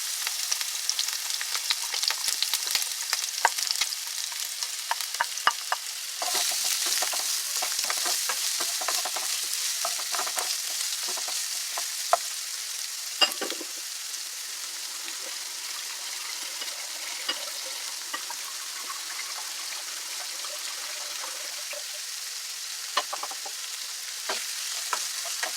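Garlic and onions frying in a pan over medium heat give a steady, bright sizzle with crackling pops and occasional stirring scrapes, fairly close and uninterrupted, with no talking.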